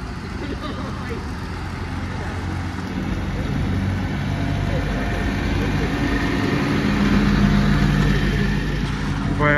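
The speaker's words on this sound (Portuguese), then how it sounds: "O caminhão da Guinness aí vai passar." A Guinness delivery truck rumbles past on a snowy Dublin street, its engine growing steadily louder and nearer as it passes, with a broad, continuous roar.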